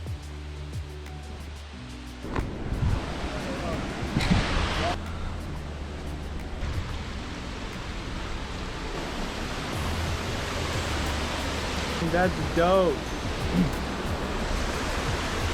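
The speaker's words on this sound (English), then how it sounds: "Here we got that waterfall" Ouzoud Falls, a tall waterfall in Northern Africa, heard close as a constant broadband roar of falling water, with brief speech and a few vocal exclamations over it.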